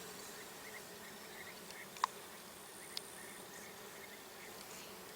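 Faint, constant buzzing of bees at a spiny flowering plant on the steppe, a low droning hum throughout with one or two short sharp ticks, no talking.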